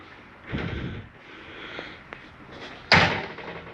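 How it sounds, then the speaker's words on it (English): Sliding glass door on a 2022 Keystone Raptor 423 RV slides along its track with a soft rumble, then a sharp knock as it bangs shut, close and alone. "You have your sliding glass doors here."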